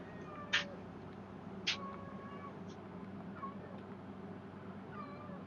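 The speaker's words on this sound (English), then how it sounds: "my cat's meowing too" A cat meows a few times, with short high cries standing out over a steady low background hum, heard fairly faint and at a moderate distance.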